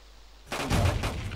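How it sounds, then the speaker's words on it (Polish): Gunfire in the video game DayZ during a town defence: a sudden loud burst of shots starting about halfway through, with several rapid cracks following in quick succession, no talk. "Strzały."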